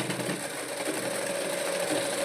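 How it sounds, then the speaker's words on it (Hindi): Sewing machine running steadily while stitching the waistband of palazzo pants, a continuous close mechanical whir with no talk. "वहाँ पे हम सिलाई चला देंगे"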